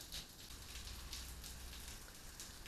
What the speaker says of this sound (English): it immediately started pouring rain